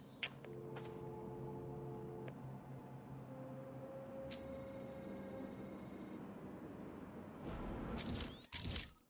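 An in-game telephone rings in Batman: Arkham City, bright ringing bursts over a steady low game hum, with sharp clattering near the end.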